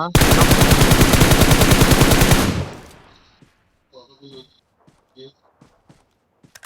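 A loud burst of rapid automatic gunfire in the video game PUBG rattles for about two and a half seconds, then fades into quieter scattered clicks and thuds.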